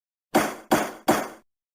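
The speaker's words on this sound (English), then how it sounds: "He banged his hammer." A judge's gavel banging three times in a steady rhythm, each strike loud and close with a short ringing decay, alone with no voices.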